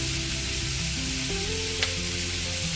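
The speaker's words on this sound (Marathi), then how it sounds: "ह्याच्यामध्ये मी अद्रकचे तुकडे टाकणार आहे" Ginger pieces sizzle in hot oil for a hotel-style matar paneer gravy, a steady close hiss with tonal music playing over it throughout.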